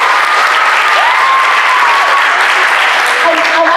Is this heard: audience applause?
yes